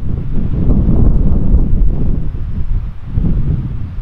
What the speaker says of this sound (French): le vent et moi on n'est pas d'accord sur le sens à donner à ma coupe de cheveux